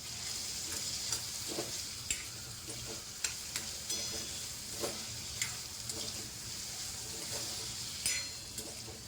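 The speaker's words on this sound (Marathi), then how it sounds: "टोमॅटो परतून घेऊया आपण." Chopped tomato sautéing with onion in a pan, a steady close sizzle with frequent clinks and scrapes of a stirring spoon, no talking.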